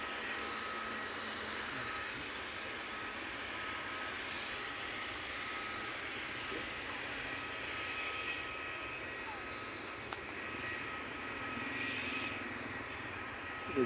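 A plane at Halim airport, heard as a distant, steady engine drone that holds for the whole stretch under a low background hiss, with no clear approach or fade.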